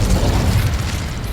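Fire spell cast in Hogwarts Legacy, a loud, dense roaring burst of flame with rumbling low end that holds steady for over a second, no talk over it.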